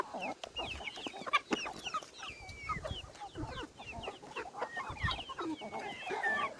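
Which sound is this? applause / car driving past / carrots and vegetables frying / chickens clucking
chickens clucking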